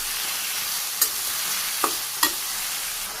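Soybean and vegetable curry fries in a pan with a steady soft sizzle, and a utensil scrapes it three times in short strokes, close and alone.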